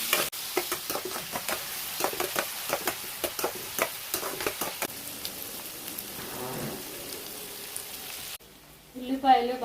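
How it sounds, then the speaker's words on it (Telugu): Onions frying and being stirred in a pan, with crackling sizzle and repeated utensil scrapes, steady and close, then quieter bubbling near the end. "ఉల్లిపాయలు బాగా వేయించుకోవాలి,"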